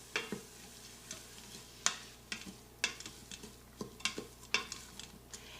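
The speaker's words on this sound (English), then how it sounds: "And we're just going to go ahead and let that saute." Onions and peppers sautéing in an Instant Pot for Cuban black beans: quiet sizzle under a string of sharp spoon taps and scrapes against the inner pot, irregular and close, without speech.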